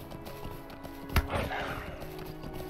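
Horse hooves clop beneath a rider in the video game Lord of the Rings Online, a soft steady beat with one sharp thud, set against a continuous game ambience.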